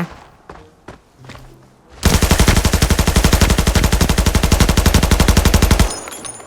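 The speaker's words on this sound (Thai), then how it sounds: "มีเสียงปืนบอดอยู่ด้านหน้า" A few scattered thumps give way to one long, loud burst of rapid automatic gunfire in the video game Arena Breakout that runs for several seconds before stopping abruptly.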